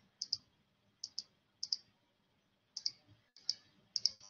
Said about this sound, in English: you have to go down and click on show constraints